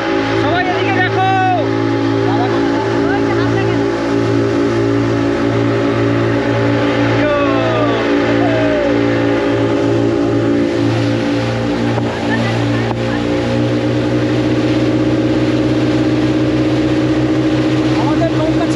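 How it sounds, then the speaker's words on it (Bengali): A speedboat engine drones steadily on a lake, loud and close for the whole stretch, while several people chatter and call out over it. "স্পিড বোট, ওই দিকে যাবো।"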